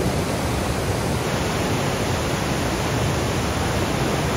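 Big Falls waterfall roars as a dense, unbroken rush of water, loud and close, filling the whole scene with no voices.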